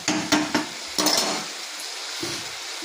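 Bottle gourd greens stirred in a pan, with a few sharp clattering scrapes and taps of a utensil against the metal early on, then a softer low sizzle and occasional light knocks, close and fairly quiet.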